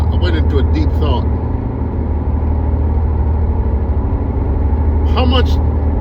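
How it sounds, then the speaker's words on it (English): Constant low rumble of oversized truck tires on the road, a steady loud drone inside the cab that runs the whole time, with someone speaking over it. "forgive the noise, guys. I have them oversized tires that making noise"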